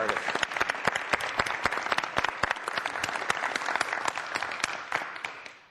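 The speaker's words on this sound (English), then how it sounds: "Can we have a round of applause for" An audience at a planning commission meeting gives a round of applause for the artists, steady dense clapping that fades out at the end.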